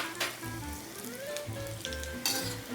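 Pakoras deep-frying in a kadai full of hot oil, a steady close sizzle with bubbling crackle throughout, no voices.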